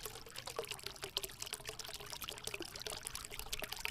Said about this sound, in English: you can add some fountain such as solar fountain. This will add beauty to your garden and also you can enjoy the water sound